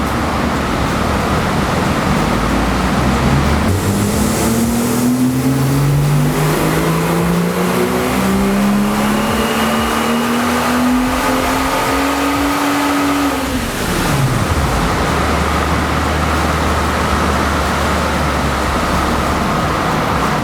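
A car fitted with an AWE axle-back exhaust climbs steadily through the revs on a dyno pull, its engine note rising loudly before dropping sharply to idle, with no voices.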